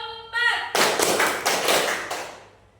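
Schoolchildren in a sixth-grade classroom clap together in a patterned sequence, four sharp group claps in even rhythm following a brief voiced tone.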